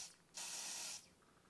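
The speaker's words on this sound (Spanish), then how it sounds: "Y un poquito de spray de la de Dior." Dior makeup setting spray hisses from a pump bottle in one short, close burst of about half a second, alone in a quiet room.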